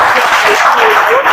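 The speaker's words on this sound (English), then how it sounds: "a round of applause" Brief burst of audience applause at a Christian youth gathering, a dense wash of clapping, loud and close, lasting just over a second with voices mixed in.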